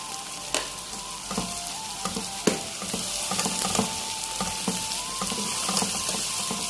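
Curry masala sizzling with potatoes and cluster beans in a pan, a steady fry hiss broken by scattered pops and occasional stirring clinks, close and continuous with no talking.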